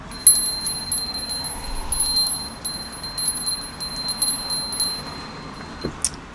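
A small bell, rung to clear energies, gives off a sustained high metallic ringing. Light repeated strikes keep the tone shimmering for several seconds before it stops, over a quiet room.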